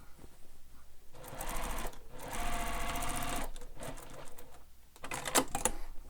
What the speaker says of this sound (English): I'm going to sew over that again, just right beside the seam, not right on top of it, just for some extra security.